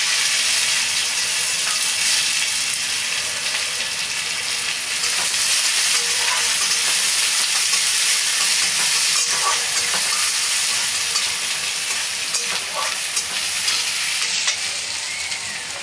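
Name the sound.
onions frying in oil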